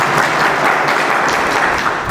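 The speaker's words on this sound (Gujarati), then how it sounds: "એક વાર જોરદાર તાળીઓ છે" Loud, dense applause from an audience at a Gujarati community gathering welcoming a guest, continuous and close, with no speech over it.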